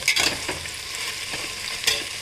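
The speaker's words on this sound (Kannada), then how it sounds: "ಇವಾಗ ಆಲೂಗಡ್ಡೆ ಹಾಕ್ತಾ ಇದ್ದೀನಿ ಬಟಾಣಿ ಹಾಕಿದ್ದೀನಿ" Potatoes and peas added to mixed vegetables frying in a pan, heard as a steady sizzle with a few sharper clattering stirs, close and moderately loud, with no talking.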